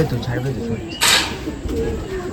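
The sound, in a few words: male blue-tailed Madrasi pigeon cooing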